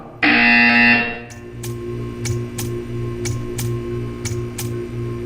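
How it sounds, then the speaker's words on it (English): In the video game Portal 2, a loud electronic buzzer sounds once for about a second, followed by a quieter steady hum and a series of faint evenly spaced ticks. "You will hear a buzzer."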